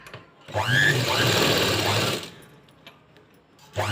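A sewing machine stitching a strip of blouse lining cloth: a steady, close, loud mechanical whir for about a second and a half, then quiet, with a new burst starting at the end.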